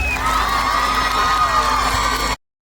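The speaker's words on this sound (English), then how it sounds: "Give them a huge round of applause." A large crowd cheers and whoops loudly with a sustained roar, then the sound cuts off abruptly.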